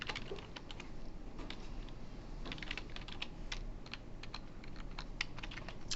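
Rapid, steady typing on a computer keyboard during a programming lecture, crisp key clicks pattering continuously for about six seconds over a low room hum, with no voices.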